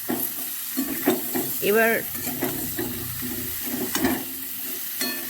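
Vegetables go slowly into hot oil with turmeric, giving a close, steady sizzle with stirring scrapes and a louder burst near the start, while a voice briefly speaks over it.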